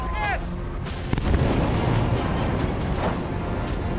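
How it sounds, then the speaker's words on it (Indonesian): Heavy booming blasts from Israeli military airstrikes on Gaza City rumble continuously, with sharp bursts and a deep roar filling the air; a faint whine sounds briefly at the start. "Ledakan akibat serangan udara militer Israel kembali terjadi di kota Gaza pada Sabtu pagi."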